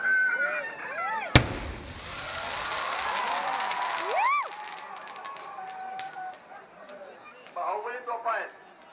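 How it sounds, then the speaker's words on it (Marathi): Bahubali firework cannons go off outdoors during a festival fireworks display, one sharp loud bang followed by crackling bursts, whistles and further pops, with a crowd cheering and people talking throughout. "बाहुबली तोफा आहेत"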